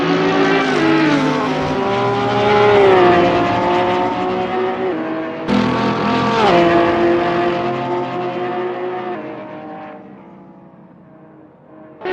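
Porsche 911 GT3R race car through La Source at Spa during a GT3 race, loud close engine with rising and falling revs, a brief cut for a gearshift, then fading away into the distance.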